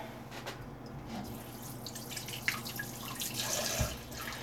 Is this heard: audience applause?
no